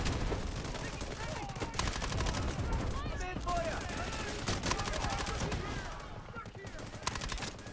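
Gunfire in the Delta Force video game, dense rapid bursts of shots and explosions running almost continuously and loud, with a few brief voice fragments underneath.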